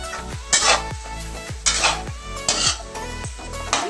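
Meat sautéing in a pan with salt for monggo with sotanghon: a steady low sizzle under repeated metal spatula scrapes and clanks against the pan, roughly one stir every second, close and fairly loud.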